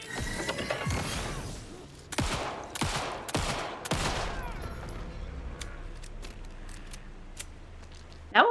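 Gunfire in Alan Wake II: a rapid burst of shots opens the clip, then four heavy, widely spaced blasts ring out, followed by fading echoes and a sharp sound near the end, all in a dark, quiet game space.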